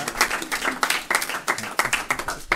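A church congregation claps and applauds in praise of the Lord, dense irregular bursts of clapping close by, with voices mixed in.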